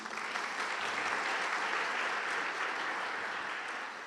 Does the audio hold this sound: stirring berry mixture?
no